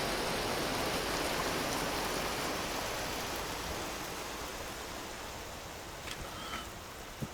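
Hail falling in the Vintage Story game makes a dense, steady hiss and patter that slowly fades, with a couple of faint clicks near the end.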